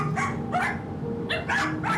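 Several caged poodles bark in quick, close bursts of sharp, high yips, about five barks in two seconds, loud and uneven over a faint hum.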